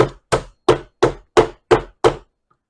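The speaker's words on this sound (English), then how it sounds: "Just come back with the small hammer again" A small hammer taps a bone nut into a bass guitar: seven sharp, evenly spaced, close and loud knocks in a steady rhythm, then silence.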